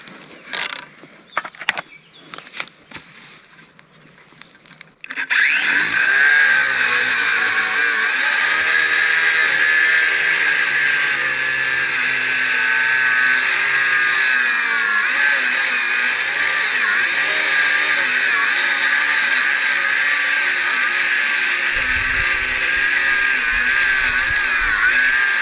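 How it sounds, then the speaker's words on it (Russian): A power saw cuts through wood at an abandoned mill in the woods, starting abruptly after a few seconds of quiet handling noise and then droning loud and steady, without pause, to the end. "Все, начинаю пилить."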